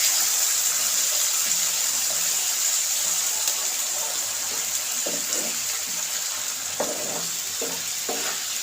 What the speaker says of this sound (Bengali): অল্প একটু পানি দিয়ে দিলাম।